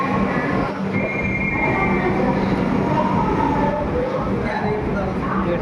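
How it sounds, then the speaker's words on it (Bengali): Steady rumble of a Rajdhani Express train on the Nizamuddin–Thiruvananthapuram route passing close by at a station, loud and continuous with rail screech and rolling wheels, faint voices in the background. "রাজধানী এক্সপ্রেস"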